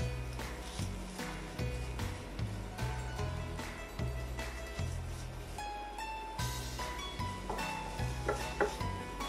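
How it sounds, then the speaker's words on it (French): Tomato paste sautéing in a pot for a Greek kokkinisto, a steady soft sizzle with repeated scraping and stirring strokes in an even rhythm, close and fairly quiet, with no talking. "Ensuite, on va mettre le concentré de tomate. On va le faire revenir."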